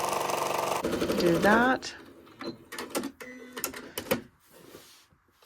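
A sewing machine stitching with black thread runs in a fast buzzing burst at the start, then gives way to scattered clicks, knocks and handling noises, with a short spoken remark close by.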